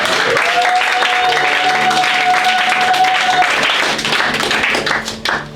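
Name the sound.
church congregation applauding and cheering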